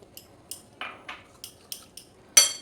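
A utensil clinks against a bowl while fish-chop batter made from lote fish is mixed, with about nine sharp, fairly regular taps close by and a louder knock near the end.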